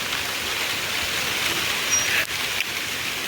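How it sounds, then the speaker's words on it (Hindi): Heavy downpour hisses continuously and close by, an even broadband wash with a couple of brief dips and faint splashes, no one speaking. "देखा कुछ बारिश हो रही है एकदम ज़्यादा।"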